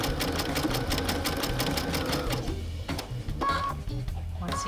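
A sewing machine stitches a dense satin stitch around raw edge fabric applique, running in a fast steady mechanical rhythm, close and loud, with brief slowdowns where it stops to pivot at curved corners.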